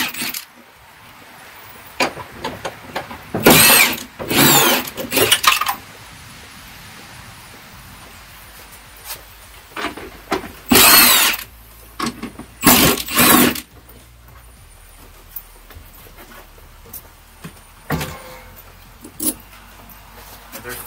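A power gun set to reverse backs out the 10 mm bolts of a wiper motor on a 2010–2015 third-generation Prius, giving several short, loud bursts of whirring and rattling separated by quieter pauses, with talking in between.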